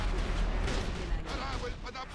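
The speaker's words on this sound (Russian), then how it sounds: "Корабль под обстрелом!" Cannon fire pounds a ship during a World of Warcraft raid battle, a dense rumble of heavy booms and blasts that runs continuously through the moment.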